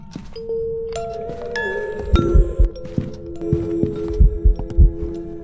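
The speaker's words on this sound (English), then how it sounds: "Let's just use the music box, shall we?" Music box in the Phasmophobia horror game playing a slow tinkling melody of bright plucked tones over low thumping game sounds and rumble, steady for several seconds.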